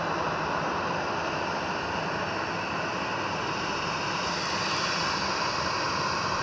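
Aircraft engine roar at Edinburgh Airport, a steady, loud, continuous rumble that holds through the whole stretch without a break.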